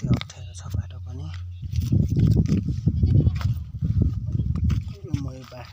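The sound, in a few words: goats bleating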